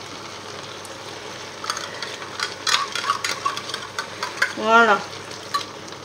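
Squid in tomato sauce with added water stirred in a pan, soft scraping and bubbling sizzle with intermittent clinks, close and moderate, with a brief spoken word near the end.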